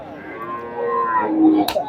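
A cow at a rural cattle market in Khulna gives one long, drawn-out moo that swells toward the end, close and clear, with faint market background behind it.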